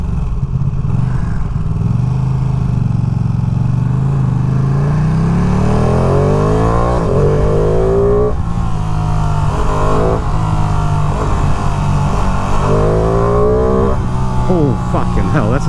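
A 2023 Ducati Panigale V2 sport bike pulls hard through second gear on New York City streets, its engine note rising loudly in repeated climbing sweeps as the revs build, with the rider's voice exclaiming over it.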